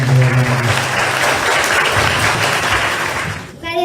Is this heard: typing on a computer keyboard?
no